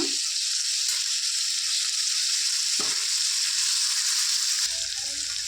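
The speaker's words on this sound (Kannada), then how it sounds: "ಎಣ್ಣೆಲೆ ಒಂದೆರಡು ನಿಮಿಷ ಚೆನ್ನಾಗಿ ಫ್ರೈ ಮಾಡಿಕೊಂಡ್ರೆ ನೀಟಾಗಿ ಫ್ರೈ ಆಗಿಬಿಡುತ್ತೆ" Tomatoes frying in oil for a hotel-style peas kurma, a steady bright hissing sizzle that stays even throughout, with a couple of brief low knocks and no talking.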